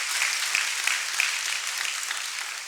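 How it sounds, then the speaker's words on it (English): An audience at a student loan sensitization drive applauds Doug and the team, a dense, even wash of many hands clapping at once, steady and fairly loud for nearly three seconds with no talk over it. "I think you can give a clap onto Doug and the team."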